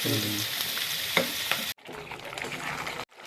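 Prawn gravy sautés in a pan with a dense close sizzle and a few scraping stirs, broken by two abrupt cuts.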